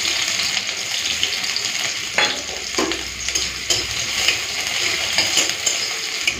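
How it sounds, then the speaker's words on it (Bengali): Chopped onion frying in hot mustard oil alongside dried red chillies: a loud, close sizzle with frequent scraping stir strokes and light utensil clinks, with no speech. "দিয়ে দেবো পেঁয়াজ কুচি,"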